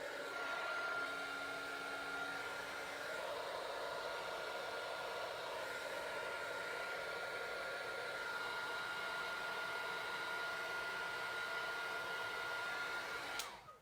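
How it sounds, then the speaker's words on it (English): Heat tool blowing hot air over alcohol inks, a steady, close whooshing drone with a faint high whine that runs unbroken for the whole stretch before cutting off at the end. "and then back in with my heat tool"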